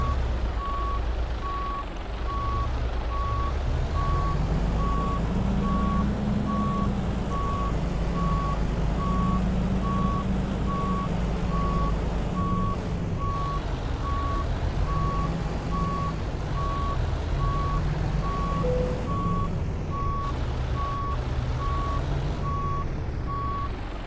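Reversing beeps from a construction vehicle in American Truck Simulator, a steady repeating electronic tone over a loud, constant truck engine rumble that fills the whole stretch.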